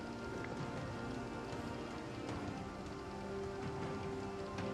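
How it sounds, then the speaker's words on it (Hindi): Heavy rain pours steadily and densely over a temple complex in Mayiladuthurai, Tamil Nadu, a continuous close wash of drumming drops with no voices. "भारी बारिश के कारण वैथीश्वरन मंदिर का परिसर भी जलमग्न हो गया।"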